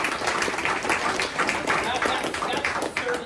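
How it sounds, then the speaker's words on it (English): A room of trainees at a real estate agent training session applauds, a dense, even patter of many hands clapping close and loud for the full stretch. "So let's give Knolly a round of applause"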